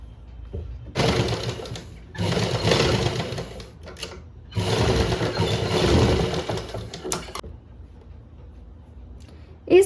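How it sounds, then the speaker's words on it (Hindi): A sewing machine stitching a pleat on a blouse, running in three separate bursts of fast, rattling needle strokes with short quiet pauses between them and a click at the end. "हम करेंगे प्लेट की सिलाई।"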